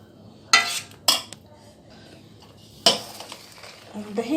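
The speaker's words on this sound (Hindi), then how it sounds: "दही को और मिर्चियों को अच्छे से मिला लेंगे।" Yogurt being stirred into chilies in a bowl, with three sharp clinks of a utensil against the dish separated by quieter mixing scrapes, close and moderately loud, no voices.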